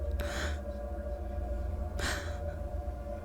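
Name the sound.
fish character gasping for breath in audio story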